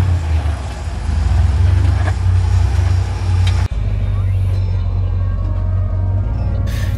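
A 4x4 rock crawler grinds up a slick rock waterfall with a loud, steady, low engine rumble. There is a brief dip partway through before the rumble resumes at full strength.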